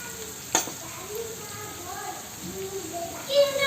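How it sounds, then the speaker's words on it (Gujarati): Sliced onions with salt and turmeric sizzle softly in a pan as they are stirred, a faint crackle with a short scraping clatter, and a voice speaks over it. "અને સારી રીતે મિક્સ કરી લઈશું."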